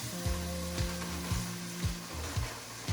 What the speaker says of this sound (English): right now we're sweating our onions and garlic